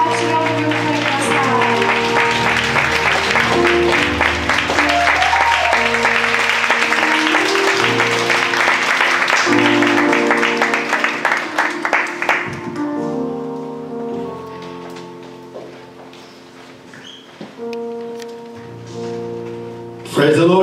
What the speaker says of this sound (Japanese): 拍手がお願いします